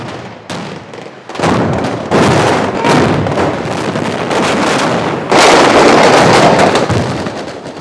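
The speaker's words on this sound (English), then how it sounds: "when they yell action here, boy, your heart goes, because it starts, everything starts blowing up" Pyrotechnic explosions on the Black Hawk Down film set go off in rapid, loud bursts, with sharp bangs and crackling blasts layered into a dense, chaotic barrage amid wind noise.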